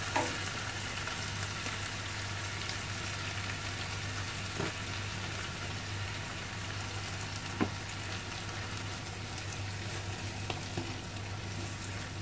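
Tomato sauce frying with pasta sauce in a pan, a steady close sizzle and bubbling crackle that runs unbroken with a few faint clicks, no voices.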